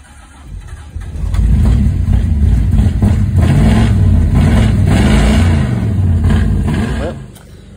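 A 1963 Pontiac Star Chief, freshly fitted with a higher-flow fuel pump after stalling, cranks, catches and revs hard up close for several seconds before the engine drops away.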